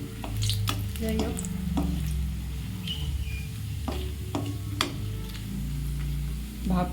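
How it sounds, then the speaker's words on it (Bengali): Cashews fry in a wok while a utensil stirs them, giving a steady sizzle broken by scraping and clinking strokes; someone says a brief word partway through. "কাজুটাকে কিন্তু ভেজে নিতে হবে"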